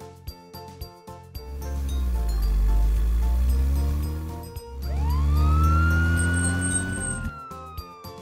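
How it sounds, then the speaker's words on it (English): A toy police car siren wails in two long rising and falling sweeps, loud and close, with a short gap between them and no talking. "Police car."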